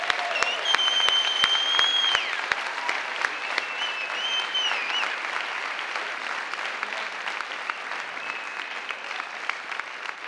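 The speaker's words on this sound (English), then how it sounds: "let's please honor them by giving them a huge round of applause" An audience claps together at a public talk, a dense, sustained round of applause that stays strong and gradually eases off, with a few sharp individual claps near the start.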